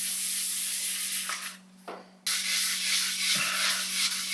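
A Telecaster guitar body is wet sanded with a fine-grit pad, giving a soft, continuous rubbing swish that briefly stops and then resumes, with a low steady hum underneath.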